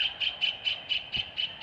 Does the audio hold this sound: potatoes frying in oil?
no